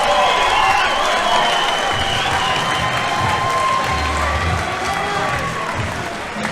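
A crowd roars and claps throughout an MMA bout at the Coastal Combat 2 event, with a dense, sustained wall of cheering and applause that stays loud for the whole stretch, while voices mix in underneath.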